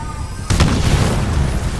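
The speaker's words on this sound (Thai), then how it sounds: "จะปาระเบิดทำไมวะ" A grenade explodes during a Titanfall 2 multiplayer match with a sudden loud boom partway through. Rumbling battle noise continues after the blast.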